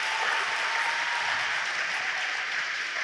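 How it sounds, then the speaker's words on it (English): Audience applause at an awards ceremony for a school athletics program, a steady, dense wash of clapping held at even strength for about three seconds with no talking over it. "I would like everybody to give her a great round of applause for all that she's done for Artie Parker Athletics."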